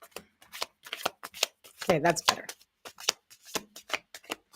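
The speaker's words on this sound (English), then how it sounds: "I've been practicing new shuffles, doing my thing, people." A deck of playing cards is shuffled repeatedly in quick riffling bursts, close and crisp, while a person talks over it.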